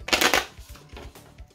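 A deck of James Bond deck-building game cards is shuffled by hand, a loud burst of riffling up front followed by softer repeated bridging taps, close and unaccompanied by talk.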